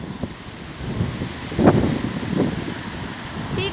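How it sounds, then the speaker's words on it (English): Strong wind blows across an outdoor cemetery, a broad rushing roar buffeting the microphone throughout with a few louder gusts and faint rustling. "The wind is blowing like crazy."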